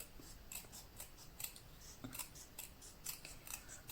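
Scissors snip through a quilt border in a quiet room, a run of light, crisp cuts repeating at a steady pace with soft rustling between them.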